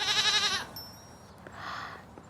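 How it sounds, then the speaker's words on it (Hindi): A goat in a home garden gives a loud, wavering bleat at the start, followed by quieter rustling and a softer second call. "तुम्हारे गार्डन में ये बकरी?"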